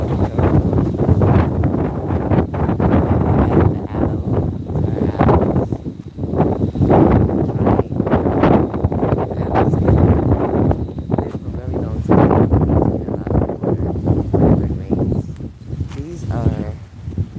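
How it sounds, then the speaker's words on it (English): Strong wind gusts batter the microphone in heavy, rumbling bursts among flowers outdoors in Aruba, loud and close, with faint rustling beneath and a voice speaking at times. "it's so windy"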